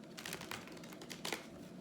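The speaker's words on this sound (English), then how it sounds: "I want cards that I shuffle out." Tarot cards being shuffled by hand, a soft papery riffle and crinkle with brief bursts, close and fairly quiet, no talking.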